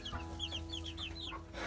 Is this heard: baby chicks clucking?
yes